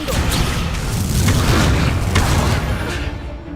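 Heavy booming spell slam from a Descendo cast in Hogwarts Legacy on PS5, a dense, loud rumbling impact filling the whole moment with no speech over it.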